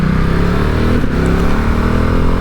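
BMW R 1250 GS Adventure or Ducati Multistrada 1260 Enduro motorcycle with a stock up-and-down quickshifter, pulling hard under load with a steady, loud engine drone and a brief dip at a gear change.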